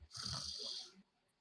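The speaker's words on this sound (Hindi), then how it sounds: "और वह भी खर्राटे भर रहा है।" A guard snores in a comic audio drama: one long, loud, rasping snore close up, lasting about a second, then trailing into near silence.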